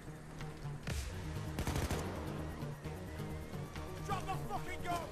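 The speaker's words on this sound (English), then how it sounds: "Oh, who's shooting up there?" Gunfire from upstairs in the video game Payday 2, bursts of automatic shots mixed with game noise and voices, moderately loud with a couple of denser volleys.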